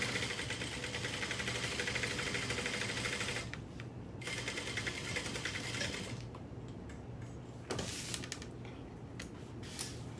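A domestic sewing machine stitches a straight line with backstitching, a fast, steady, close mechanical whir that pauses briefly twice as direction changes, then resumes more loosely.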